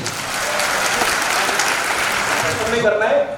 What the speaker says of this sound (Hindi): बिल्कुल जोरदार तालियां जी